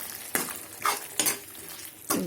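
Tomato pieces for aloo kurma are stirred in a pan, with four distinct scraping strokes of a spoon against the metal over a soft sizzle.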